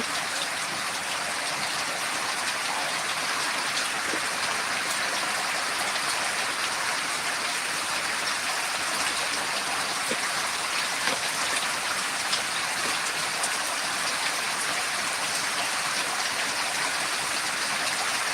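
A sudden rain shower falls steadily in a village, a dense even hiss of drops striking surfaces with no voices, constant and close for the whole stretch.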